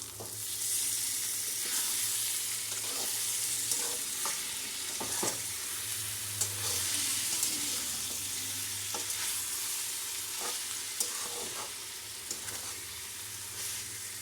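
Soya chunks (meal maker), squeezed of water, sizzle in a hot pan while a spoon stirs through them, giving a steady close frying hiss broken by scraping clicks and soft knocks.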